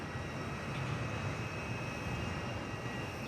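Steady broadband roar of a passenger aircraft's engines at Perth Airport, an 11-year-old airframe, holding constant and fairly loud with no talk throughout.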